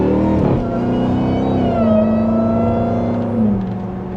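A loud Dodge Charger Hellcat engine picks up speed toward about 55 mph, its tone climbing and then holding steady as it cruises, close and continuous.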